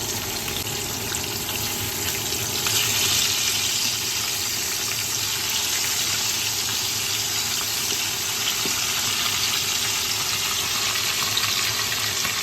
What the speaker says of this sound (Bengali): মাছগুলা তেলে দেওয়ার পরে এমন ফোটা ফুটতেছে